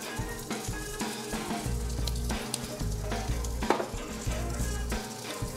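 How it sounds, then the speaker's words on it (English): Turmeric, MSG, brown sugar and nutmeg toasting and being stirred in a pumpkin soup pot, a continuous loud sizzle with repeated scraping and clinks of the utensil, no talk. "So we just want to stir these and get it incorporated"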